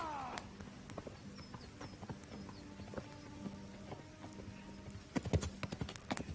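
Hooves clip-clop steadily in the distance, growing louder and heavier toward the end as the horse draws near, over a low ambient background, in the video game Kingdom Come: Deliverance.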